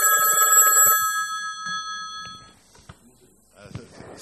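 A telephone ringtone rings with bright repeated tones for about two and a half seconds, then stops, leaving quiet room noise and a few small knocks.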